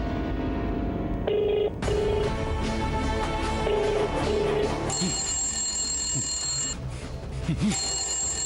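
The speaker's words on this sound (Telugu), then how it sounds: "చంద్ర ఫోన్ రింగ్ అవుతుంది, ఫోన్ చూడు." A mobile phone rings indoors in a television drama scene, sounding as a series of repeated electronic ringtone beeps followed by higher, sustained tones, with no one speaking.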